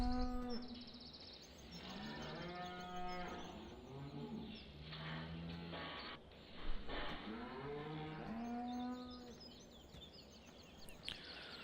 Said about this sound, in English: The cow sounds.